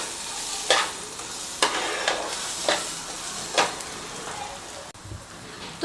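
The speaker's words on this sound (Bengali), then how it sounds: "এগুলো দিয়ে খুব ভালো করে মশলার সাথে ডিমটাকে কষিয়ে নিচ্ছি।" Eggs frying with chaat masala, garam masala and salt in a pan for a street-style egg dish, a constant rain-like sizzle broken by four or five sharp scrapes of a spatula, close and even, no one talking.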